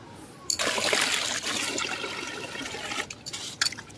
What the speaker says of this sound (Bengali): পরিষ্কার করে ধুয়ে নেব ইলিশটাকে।